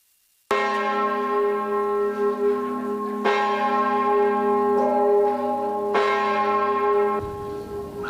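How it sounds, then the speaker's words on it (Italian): Church bell tolling in Bassano, three loud strikes spaced a few seconds apart, each ringing out with a long, rich, humming decay, alone without voices. "Avete sentito questa campana?"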